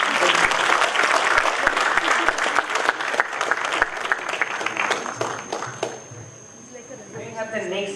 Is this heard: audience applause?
yes